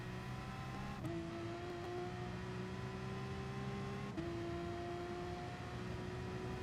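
A Porsche race car in Gran Turismo Sport accelerates steadily out of a corner. The engine note climbs in pitch, drops sharply at two quick gear changes, then climbs again. The engine drone is fairly quiet and unbroken, with no voices.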